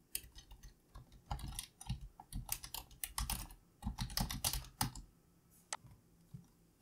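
Fingers type a short phrase on a computer keyboard, bursts of quick, close, crisp key clicks with brief pauses, ending in a few isolated taps.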